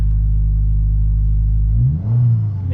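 A 2022 Subaru WRX fitted with a Perrin charge pipe idles loudly with a steady low rumble, then revs up sharply near the end and settles back down, heard close and alone.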